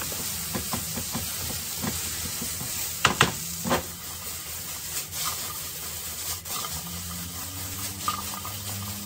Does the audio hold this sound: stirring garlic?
yes